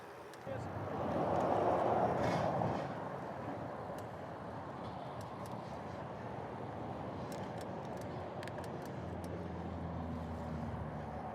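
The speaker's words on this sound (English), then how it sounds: "It's very noisy, of course, because of the volume of traffic." Heavy road traffic crossing the Severn Bridge, a steady broadband roar of passing vehicles with a louder surge early on, heard from the bridge itself with wind buffeting.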